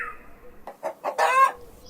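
Hen clucking among farm animal sounds, a few short separate clucks building to a louder, longer call near the end, alone with no talk.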